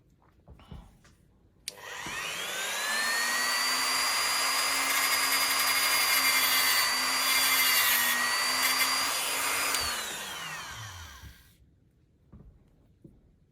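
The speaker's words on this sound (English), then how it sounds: "I'm going to sand it just a little bit more" A power sander smooths a small 1:8 scale DeLorean model part for flux band bars, running as one steady, fairly loud whine for about eight seconds before spinning down, close by and with no talk.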